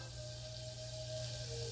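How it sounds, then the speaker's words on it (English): Oil and butter sizzle in a pan, heating before chopped mushrooms go in: a quiet, steady hiss that holds evenly throughout, with a faint low hum underneath. "You could probably hear it sizzling."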